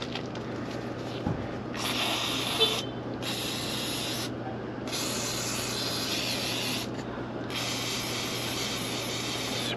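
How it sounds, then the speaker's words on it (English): Aerosol spray can hissing onto the bolts of a chiller pump during a pump change-out, delivered in several long sustained bursts separated by short pauses, close and steady over a low mechanical hum. "Spray up our bolts."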